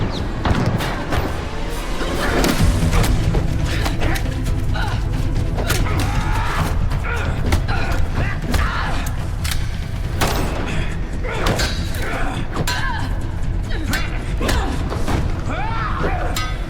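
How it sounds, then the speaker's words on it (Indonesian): Gunfire and a brutal fistfight in an action film, with dense continuous impacts, slams and thuds layered over a loud, busy soundtrack throughout. "segera setelahnya baku tembak dan baku pukul terjadi di antara mereka berdua"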